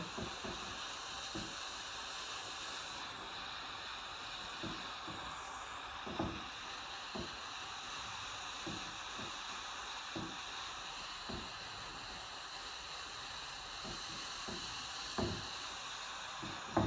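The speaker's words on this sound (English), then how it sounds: "the fabric on top is starting to be fabric manipulated by this steam" Steady, quiet steam hiss from an iron pressed onto fabric laid over Solufleece, broken by soft irregular taps and thumps as the fabric is turned.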